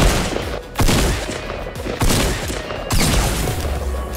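FAMAS burst rifle fire in Fortnite comes in several loud, close bursts of rapid shots separated by short gaps, with no talk over them.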